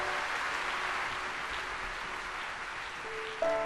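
Congregation applause at a Christmas church sermon, a steady broad wash of clapping filling the room throughout, with a brief organ or keyboard chord rising near the end.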